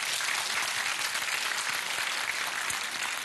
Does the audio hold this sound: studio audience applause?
yes